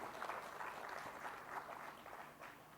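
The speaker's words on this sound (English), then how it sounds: "A big applause for them for conducting this conference well." Audience at a critical care medicine conference in India applauds steadily, a faint, even wash of many hands clapping heard from a distance for a few seconds.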